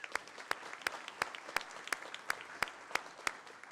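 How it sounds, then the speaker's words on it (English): Audience applause fills the room at a university honors college spring graduation celebration, a dense crowd patter punctuated by regular sharp, close, loud claps from one person near the microphone. "So I wanted to start off with a good round of applause for everybody in this room."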